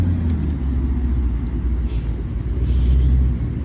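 Straight-piped Mercedes-AMG V8 car engine rumbling nearby, a loud, steady deep growl with slight swells in intensity, accompanied by faint background chatter.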